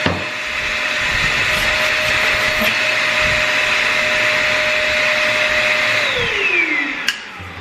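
A Snow Joe ASHJ201 ash vacuum runs loudly and close up with a steady whining motor drone, then winds down as it is switched off near the end.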